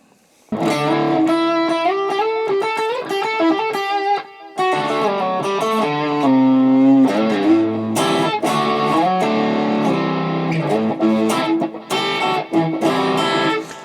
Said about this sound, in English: that's supposed to be like the lead tone because we've got a little bit of delay and reverb on there